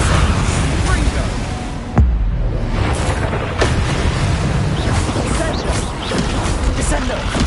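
Confringo fire spells exploding in the Hogwarts Legacy video game, a sharp boom near the start followed by dense rumbling blasts and combat noise, loud and continuous.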